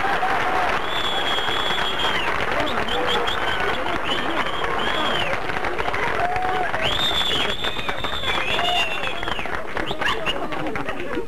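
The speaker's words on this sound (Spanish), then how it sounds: "¡Lo recibimos con un fuerte aplauso!" Studio audience applause greeting a guest on a 1960s Argentine television show, steady dense clapping and cheering throughout with whistles or shouts rising above it, loud and continuous.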